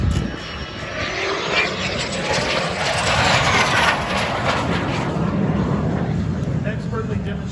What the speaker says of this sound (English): This is actually a T-37, known as the Tweet.